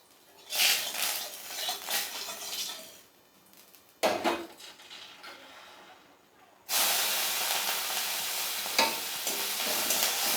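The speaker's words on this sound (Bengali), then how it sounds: "সামান্য একটু তেলের মধ্যে একটুখানি চিংড়ি মাছটাকে একটু নাড়িয়ে নিচ্ছি" Shrimp are stirred in a small amount of hot oil, giving bursts of hissing sizzle and spatula scrapes, a brief lull, then a loud, steady sizzle that continues to the end.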